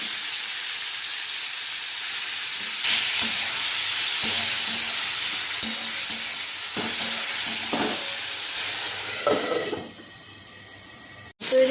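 Marinated shrimp frying in a little oil in a wok, a loud continuous hissing sizzle with occasional stirring scrapes, dropping off sharply near the end.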